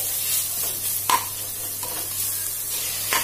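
Tomatoes frying with ginger garlic paste in a pan for mint biryani, a steady soft sizzle with a few spatula scrapes spaced through it, close and without talk.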